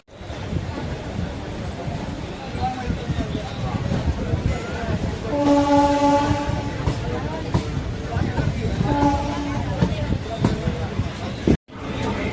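A train pulls out of Ambasamudram railway station: a steady rumble of wheels and carriage, with rhythmic clacks and a brief tonal whine midway, heard from on board with voices over it.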